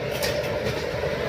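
The Bagh Express, an Indian express train, rolls along the rails with a steady, close, heavy rumble and faint rhythmic rattling, heard briefly without talking.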